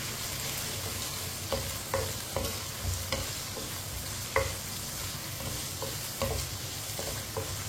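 Chopped okra fries in a pan under a continuous low sizzle, with repeated crisp spatula strokes and scrapes at an irregular pace throughout, nearby and moderately quiet, no talking.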